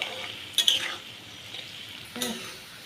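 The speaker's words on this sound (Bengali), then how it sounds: "আমি অল্প পরিমাণে চিনি দিয়ে দিচ্ছি এর মধ্যে দিয়ে এটাকে লাল করে মুচমুচে করে ভেজে নেবো" Onions frying with a little sugar in oil until red and crisp, a low steady sizzle with a few sharp stirring clatters of a utensil against the pan.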